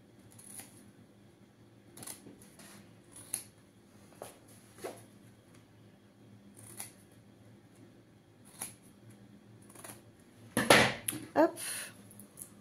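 Scissors trimming the seam allowance of a coated cotton reversible kitchen apron, quiet scattered snips with one louder cluster of cuts near the end, faint and close.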